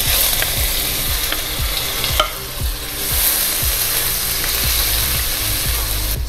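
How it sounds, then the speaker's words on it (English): Pounded ginger frying in hot cooking oil, a loud, continuous sizzle close by with a rhythmic series of spatula scrapes and stirs throughout, and no talking. "Saute the ginger until they smell nice."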